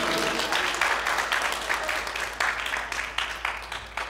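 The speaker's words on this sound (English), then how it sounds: "If God promised you something, clap your hands and shout, thank you, Jesus." A church congregation claps hands during a sermon, a dense, steady patter of many hands with slight surges, moderately loud in a large room.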